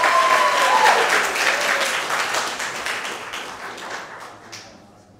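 An audience at a haiku reading applauds, dense hand clapping that starts loud and gradually thins and fades away, with no talking.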